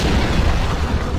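A heavy, rumbling explosion in Max Payne, a loud, sustained boom with dense low roar that fills the whole moment.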